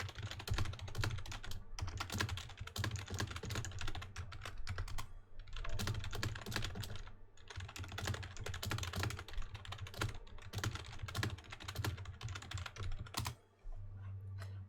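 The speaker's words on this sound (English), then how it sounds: "I was just typing in FC chat," Continuous rapid typing on a computer keyboard, dense clattering keystrokes in bursts with brief pauses, close-miked and steady for the whole stretch, no voices.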